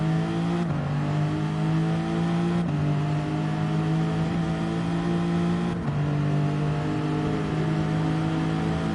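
Steady engine whine of race cars in Gran Turismo 7, with a few sharp shifts as cars pass overhead on a bridge, continuous and fairly loud throughout.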